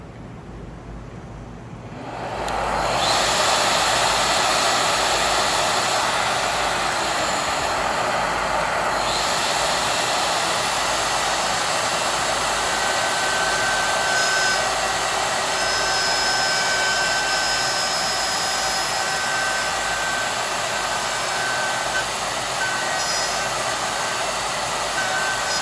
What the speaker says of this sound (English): I'm going to turn the shaper on, the router, and the vacuum.